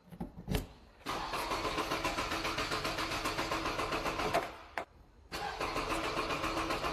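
A car engine cranks with a short stutter, catches and settles into a loud, steady run, then cuts briefly and restarts, holding a continuous rumble to the end.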